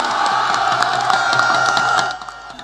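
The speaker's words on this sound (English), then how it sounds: "The crowd hyped on adrenaline and fighting for space just to catch a glimpse of the Vice President chant and scream their lungs out" A dense crowd chants and screams for the Vice President of Ghana at a public event: loud, continuous massed shouting and cheering that drops away abruptly near the end.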